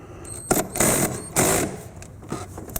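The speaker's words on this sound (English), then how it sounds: "there's that 10 millimeter. I'm going to take that out." A ratchet on an extension clicks through quick bursts while removing a 10 millimeter bolt from a BMW e38 coolant reservoir, with several short rasping runs separated by pauses, close and fairly loud.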